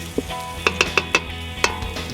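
Elk meat sizzling in a pot set just off hot coals over a very hot fire, with a few close metal utensil clicks and scrapes in quick succession over a steady crackling sizzle.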